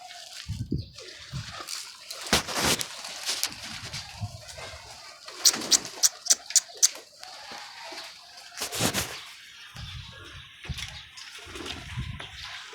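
Pigeons kept in a box during rain make soft, intermittent sounds at close range, with scattered cooing and a quick burst of fluttering or wing taps, set against faint watery background noise.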